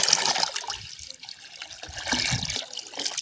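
Water splashes and gurgles as it pours out of a pipe, uneven and close, with a faint murmur of voices in the background.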